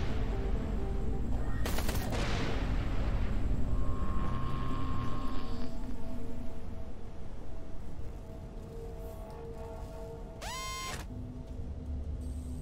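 Ship weapons firing in the space-combat video game Everspace 2, a dense continuous barrage of game gunfire with a rising synth tone near the end.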